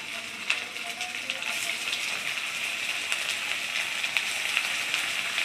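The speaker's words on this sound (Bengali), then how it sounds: "তেলটা একটু গরম হোক, একটা একটা করে আমি ভেজে নেব।" Suji coconut pithe sizzle in hot oil on a low flame: a steady bright crackling hiss with scattered pops and spits, moderately close, continuing without pause and with no talk over it.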